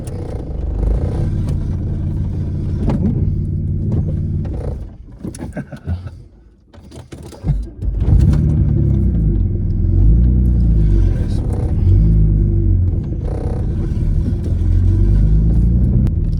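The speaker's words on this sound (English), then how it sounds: "Let's try driving a Corrado." Volkswagen Corrado VR6 driving on an open road, a steady loud engine drone and road rumble with a brief dip and clatter midway before the engine pulls strongly again.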